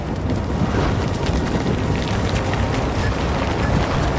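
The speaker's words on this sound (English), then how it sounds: "I think it's raining." Rain falls in the video game Death Stranding, a dense steady wash of rain hiss with a low rumbling undertone, continuous and fairly loud, with no talking.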